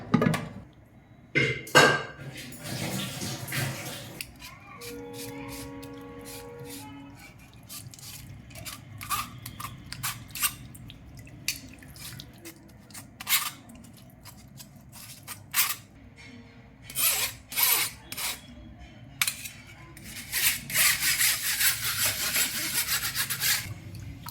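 Boiled lentils (dal) for South Indian rasam are mashed in a small cup, giving repeated rough rubbing and scraping strokes in irregular bursts, close by with short pauses between them.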